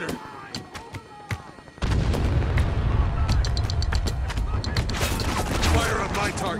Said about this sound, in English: Loading mortar.